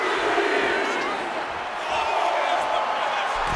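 Crowd at an NQCW Grapple Frenzy pro wrestling event roars and cheers steadily throughout, a dense, loud wash of voices with no pauses.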